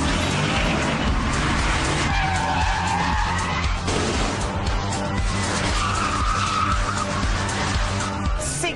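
Vauxhall VXR8, a 6-litre V8 rear-wheel-drive saloon, accelerates hard with prolonged tyre squeal and skidding over a loud, continuous engine roar, close and sustained throughout.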